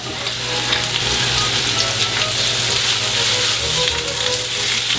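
Potatoes and oyster mushrooms sizzle steadily as they brown in a hot pan, a loud, continuous frying hiss with faint stirring underneath.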